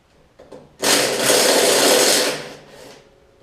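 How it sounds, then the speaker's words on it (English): An impact or power tool whirs loudly for about a second and a half, winding up and then trailing off, as head gasket bolts come out of a John Deere D110 mower engine, with no talk. "So we're taking these bolts out now."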